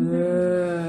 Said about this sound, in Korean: 젖소예요.